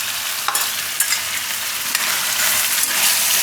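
Turmeric and salt frying in an oiled pan for spinach and brinjal curry, with a steady close sizzle and a few sharp scrapes of a spoon stirring through it.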